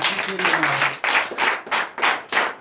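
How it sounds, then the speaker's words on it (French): A church congregation at a morning prayer service claps in loud rhythmic bursts, roughly six separated waves of clapping, with a voice briefly audible at the start. "Donnez de vive acclamation."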